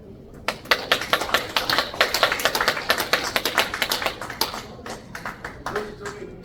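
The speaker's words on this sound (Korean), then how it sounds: "박수해 주시기 바랍니다." A church congregation at an officer appointment ceremony for an Incheon lay Christian prayer fellowship claps in sharp, fairly sparse rhythmic bursts, close and distinct, with a voice briefly audible in the background.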